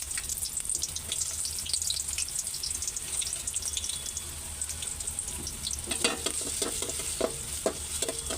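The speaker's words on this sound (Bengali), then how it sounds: "আর এই যে পেঁয়াজ কুচিও দিয়ে দিব, তেল গরম হয়ে গেছে" Chopped onion dropped into hot oil with bay leaves sizzles steadily in a home kitchen pan, a continuous hiss with occasional stirring and clinks near the end, no talking.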